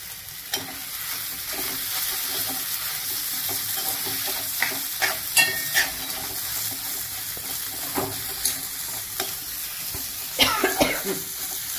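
A person coughs in a few short bursts, mostly near the end, from the sharp spice of a Maharashtrian batata vada potato filling, over a steady sizzle and stirring in the pan.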